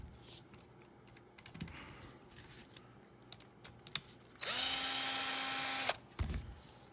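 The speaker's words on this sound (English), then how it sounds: "Then we're going to remove these screws right here that on the bottom shock." A small power screwdriver or drill whines steadily for about a second and a half while taking screws out of the bottom shock of a Traxxas TRX4 RC car, preceded by quiet clicks and handling noises, close and without talk.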